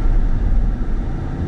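An Audi Q2 driving on the road gives a steady low engine rumble with a continuous hum of road noise, heard from inside the car with no distinct gear change.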